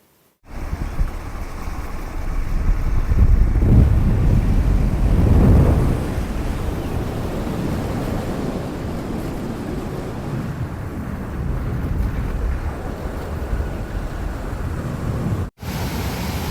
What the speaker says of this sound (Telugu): ఇక్కడ వాటర్ చాలా వేగంగా అయితే ప్రవేశిస్తుంది.